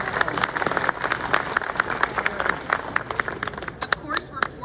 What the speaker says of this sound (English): Can we get another round of applause for Greg and Ellen?